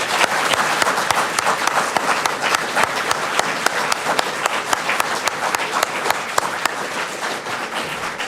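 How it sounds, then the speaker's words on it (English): A large audience at a fall theology conference applauds a guest speaker, Chris Wiley, with steady, dense clapping that holds at an even level for the full stretch, crisp individual claps popping out of the wash. "a big round of applause for Chris Wiley."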